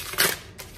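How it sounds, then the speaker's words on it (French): Paper envelope being torn open, a quick close crinkly rip followed by a fainter second rustle, brief and quiet with no voices. "J'ouvre encore cette enveloppe."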